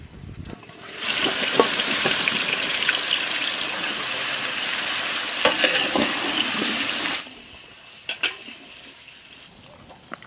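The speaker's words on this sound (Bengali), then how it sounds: "আলু ভেজে নেব" Potatoes fry in oil, a loud rushing sizzle that swells in after a second, holds steady for about six seconds with small knocks of stirring, then cuts off to quieter scattered clatter.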